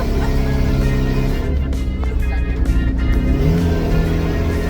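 A 1989 Jeep Wrangler engine revs loudly and continuously close by, its roar rising and falling with bursts that may include backfires.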